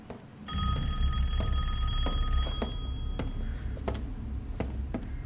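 A telephone rings steadily in Resident Evil Village, its bright trilling tone repeating over a low ambient rumble, with faint thuds and taps scattered through it.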